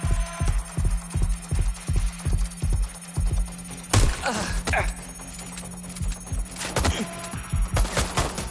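Rapid bursts of automatic gunfire in a Watch Dogs Legion firefight, a rhythmic volley of shots at first, then louder scattered blasts and impacts, steady game hum underneath.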